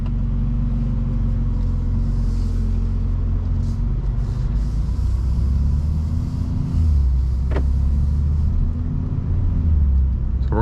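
A G87 BMW M2 driving through Las Vegas in normal mode, a deep continuous engine and exhaust drone that rises and falls with throttle, steady and loud from inside the car.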